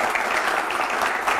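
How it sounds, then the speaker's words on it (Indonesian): Steady, dense applause from a seated audience at a Q&A session, continuous and fairly loud through the whole stretch with no voices on top. "Tepuk tangan dulu."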